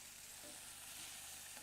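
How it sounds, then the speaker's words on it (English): Meat fries in a pan with a soft, even sizzle that holds steady and faint throughout, and no voices over it. "You can see that frying away quite beautifully there."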